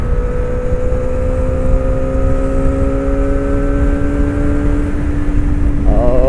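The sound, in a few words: Kawasaki ZX25R motorcycle engine revving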